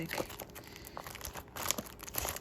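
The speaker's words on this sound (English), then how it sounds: "I'm removing the stickers from these pouches" Stickers peeled from plastic pouches, with several crinkly crackles and tearing rustles in close, soft bursts and no one speaking.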